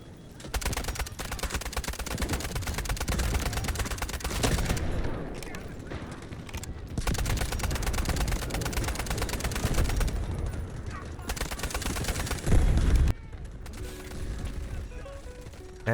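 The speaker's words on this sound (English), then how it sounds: "I can easily ADS and put as many bullets as I can into them" Bursts of automatic gunfire from a close-range gun in the shooter game Delta Force, sustained rapid volleys broken by short pauses, loud and near with mechanical clatter.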